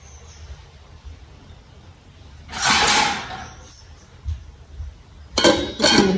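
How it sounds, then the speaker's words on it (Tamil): A plate is set over a clay pot to cover buttermilk chillies. Two short, clear clinks of ceramic against clay stand out over a quiet room, with a few soft knocks between them. "தட்டால் மூடி போட்டு கொண்டு ஒரு நல்ல ஹீட்டான இடமா பார்த்து வச்சு அவிய விட போகிறேன்"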